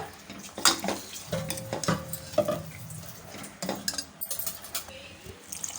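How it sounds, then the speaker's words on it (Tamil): A spoon stirs and scrapes inside a metal pot of bitter gourd and peanut curry with water just added, with irregular clinks and knocks against the sides and a soft bubbling underneath. "அப்படியே கலந்து விட்டுப்போம்"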